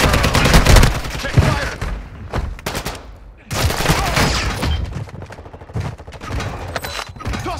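Gunfire bursts from the video game Call of Duty: Modern Warfare II, loud and close, with rapid volleys broken by brief lulls.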